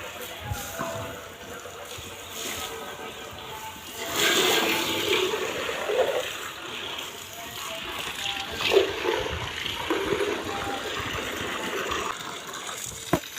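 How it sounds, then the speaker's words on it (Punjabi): Water gushes and splashes steadily for several seconds, close by, while people talk in the background. "ਇਹਦੇ ਵਿੱਚ ਵੀ ਪਾਣੀ ਪਾ ਦਿਓ"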